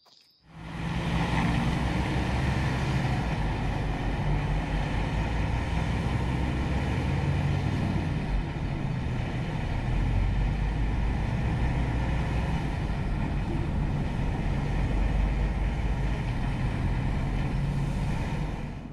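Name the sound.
Iveco S-Way 510 hp truck driving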